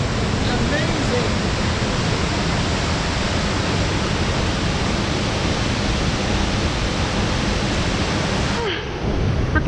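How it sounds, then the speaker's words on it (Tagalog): Montmorency Falls in Quebec roars in a steady, dense wash of falling water that fills the whole clip loud and close, without letup until a brief dip near the end. "What can you say about the Morenci Falls"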